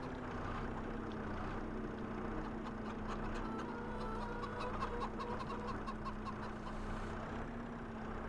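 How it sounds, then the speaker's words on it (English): Chickens cluck softly in a farm scene from the Farming Simulator 25 video game, a steady low background of poultry sounds mixed with a constant hum, with no talking. "Chickens are doing great."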